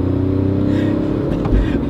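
A chiptuned diesel car pulls away from a standing start, its engine droning loud and steady with a rising hum throughout, heard close from inside.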